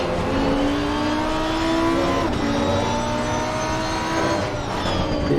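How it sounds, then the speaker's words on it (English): A loud V10 race car engine in the racing game Assetto Corsa Competizione at Valencia screams at high revs, pitch climbing and dropping through gear shifts, close and continuous with no talking. "That blisteringly loud V10 engine."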